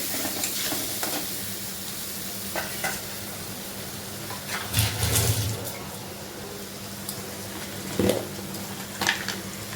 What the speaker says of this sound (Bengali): এটাকে আমি তেলে দিয়ে দেবো, ভালো করে কষাবো